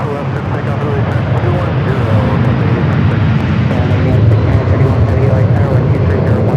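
A Delta jet rolls for takeoff on runway 24 left at LAX, a steady loud roar of jet engines that swells slightly, heard continuously alongside radio chatter.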